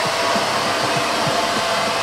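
A hair dryer blows steadily on permed semi-long hair in a Sapporo salon, a loud, close, continuous whooshing roar with no talking.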